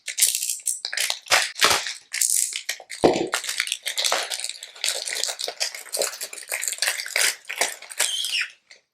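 Magic sponge buffing the casing of a Lenovo X230 laptop: close, dry rubbing and scrubbing strokes in an irregular rhythm, with a few sharper scuffs and taps between bursts, no voices.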